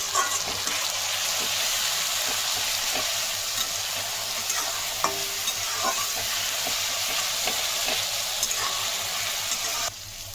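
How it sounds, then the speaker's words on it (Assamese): Ginger, garlic and green chili paste fries with onions in a pan for a mushroom dish, giving a steady, hissing sizzle with faint stirring clicks, close and continuous. "এইখিনিও ভাজি ল'ম কেঁচা গোন্ধ যোৱালৈকে ইয়াৰ অকণমান।"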